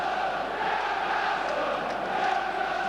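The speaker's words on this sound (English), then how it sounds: "Crowd are at their noisiest." Football stadium crowd at Newcastle United versus Liverpool, a continuous roaring wash of many voices at full volume, distant and dense with no distinct words.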